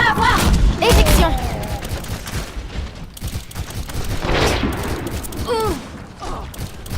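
Rapid pistol gunfire crackles in an Overwatch game match, bursts of shots mixed with other in-game effects and synthetic voices over a busy, continuous battle backdrop.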